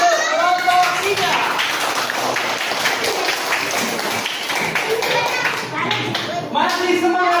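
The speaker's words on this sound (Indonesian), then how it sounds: "Beri tepuk tangan untuk kelompok 3" A classroom of children claps for group 3 in a steady, dense burst of applause lasting several seconds, with young voices chattering and calling out over it throughout.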